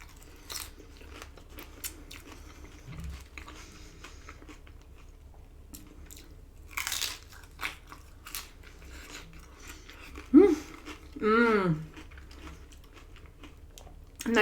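Close crunching and chewing of loaded nachos, tortilla chips with warm queso, sour cream and toppings, a few loud bites and crunches spread over a quiet background, with no talking.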